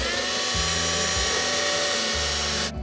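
A power drill with a screwdriver bit driving screws into a wooden birdhouse: a close, high whirring motor whine with stepped pitch changes as the trigger is squeezed, stopping abruptly at the end.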